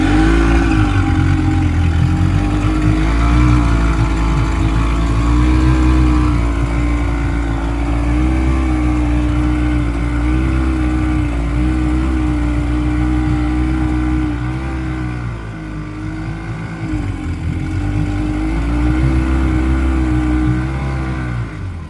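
An outboard motor on a Carolina Skiff 16 boat runs loud and close, its throttle rising and falling in slow waves before easing down toward idle near the end.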